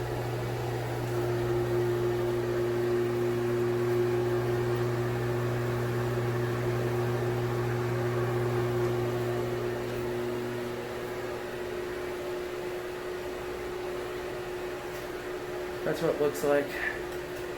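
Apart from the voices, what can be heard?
Broan Heat-a-vent bathroom fan with shaded pole motor buzzing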